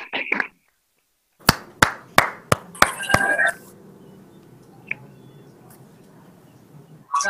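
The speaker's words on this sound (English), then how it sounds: "now they've unmuted and now you can hear that raucous applause" A handful of sharp, separate claps ring out over a virtual awards call for winner Hazel Grove Golf Club, five or six quick hits close together, then fading into a faint, hissy room murmur.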